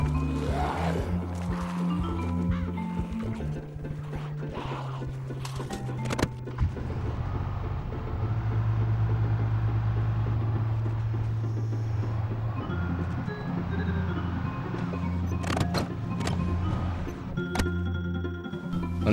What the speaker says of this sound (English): This car was absurdly loud and I had learned my lesson.